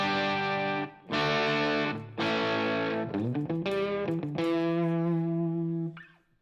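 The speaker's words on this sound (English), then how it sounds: "I got a crunch, and" Crunchy, mildly distorted electric guitar through a Line 6 HX Stomp pedal plays chords and a quick run of notes, ending on a held chord that cuts off sharply, with no speech.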